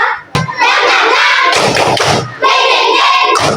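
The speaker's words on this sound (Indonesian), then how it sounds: "kita tepuk semangat dulu supaya lebih semangat" Children in a classroom do a rhythmic clapping chant, loud dense bursts of claps mixed with their voices, with one short pause partway through.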